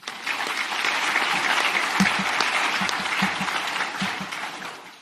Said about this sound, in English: please give a big round of applause to all the farmers around the world